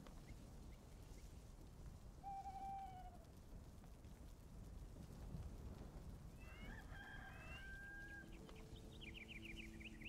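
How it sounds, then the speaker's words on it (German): A rooster in the video game Enshrouded crows in a desert area, faint and distant, with a brief call early on and a longer crow later over a steady low ambient rumble. "Sogar in der Wüste gibt es einen Hahn."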